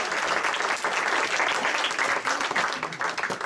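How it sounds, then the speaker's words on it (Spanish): Church congregation breaking into strong applause at a Christmas sermon, a dense, steady wash of many hands clapping throughout, fairly close and loud with no clear talk over it. "Denle un fuerte aplauso a Jesús."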